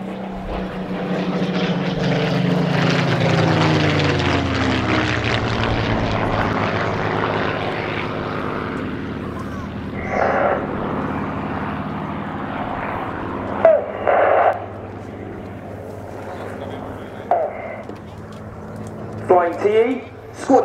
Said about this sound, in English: get your cameras ready as we see the two Spitfires crossing